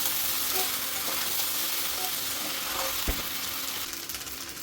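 Egg chicken pasta sizzling and frying in a pan with soy sauce and tomato sauce while being stirred, a continuous close hiss with occasional scrapes and one sharp utensil knock near the middle.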